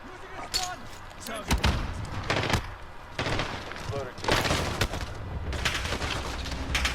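Gunfire in Call of Duty Warzone comes as repeated bursts and single sharp shots spread across the stretch, loud and close, with game sounds between them and a voice talking at times.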